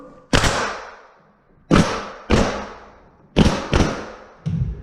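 A pneumatic nail gun fires into a split jamb door frame, giving six sharp, close thuds in an irregular rhythm with brief hissing decays between shots.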